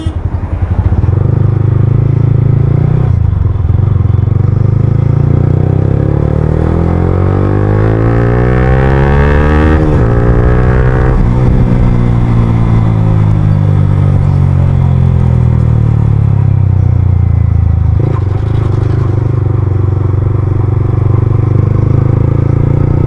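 Yamaha R15 motorcycle fitted with an Akrapovic full-system exhaust, loud and close, revving up and down through sweeping rising and falling engine pitch across repeated throttle pulls, with no talk.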